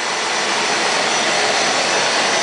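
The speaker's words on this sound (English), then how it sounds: "I turn on my shop vac" Shop vacuum running steadily close by, drawing away dust from a table saw, a constant broadband roar with no breaks and no talk.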